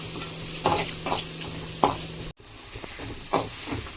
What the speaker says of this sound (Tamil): வெங்காயம் கொஞ்சம் நல்லா வதங்கி வரட்டும்.